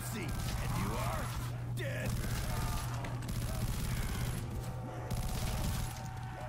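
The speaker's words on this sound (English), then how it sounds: "Just use my, grenades and machine gun" Machine gun fire and grenade blasts ring out in the Call of Duty custom zombies map Hijacked. It is a dense, continuous stream of rapid gunshots with brief pauses and explosive bursts, all under a steady low hum.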